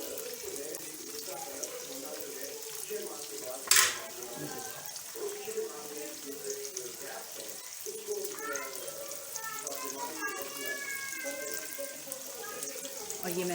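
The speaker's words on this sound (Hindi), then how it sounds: "ये मैंने फ्राई किए हुए हैं और बाकी फ्राई हो रहे हैं।" Chicken wings for a spicy sauce recipe fry in a pan with a soft, steady sizzle, faint and continuous beneath someone talking.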